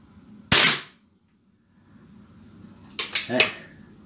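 Air pistol shots from an HW40 or Beeman P17 pellet pistol during target practice: one sharp crack, then a second cluster of snappy pops a few seconds later, close and loud against quiet background.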